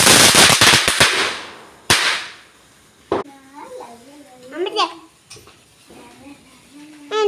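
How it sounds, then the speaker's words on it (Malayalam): Chinese firecrackers burst for Vishu in a rapid crackling string at the start, followed by a couple of sharp single bangs, with people talking nearby in between. "ചൈനീസ് പടക്കമാണ് ഇപ്പോൾ പൊട്ടിക്കുന്നത്."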